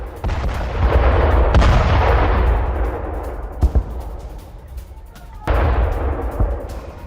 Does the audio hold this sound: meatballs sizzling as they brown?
no